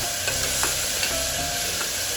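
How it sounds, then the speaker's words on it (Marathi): Ground tomato masala paste sautéing in a pan for egg pulao, a steady close sizzle and fry with faint scraping stirs throughout, no voices. "मिक्सरमधून केलेले वाटण यात टाकून चांगले परतवून"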